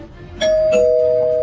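A doorbell chimes once, with a bright ding-dong whose ringing tone lingers and slowly fades against a quiet room.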